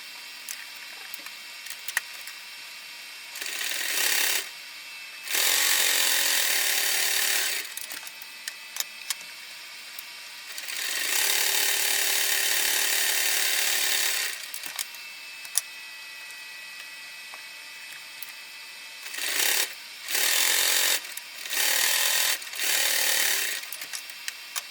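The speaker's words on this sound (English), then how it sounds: "So I'm gonna top stitch the leather" A sewing machine top stitches leather to webbing in short, loud bursts of rapid stitching, separated by quiet pauses and small handling clicks.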